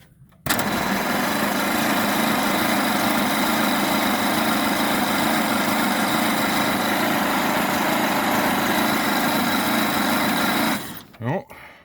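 Engine of a 1927 Pirsch fire truck starting and running after 29 years idle, a loud, steady rough drone that cuts in suddenly and holds for about ten seconds before shutting down.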